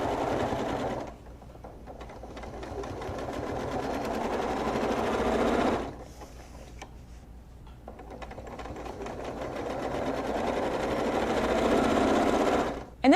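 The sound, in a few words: sewing machine quilting serpentine lines along a Squiggy ruler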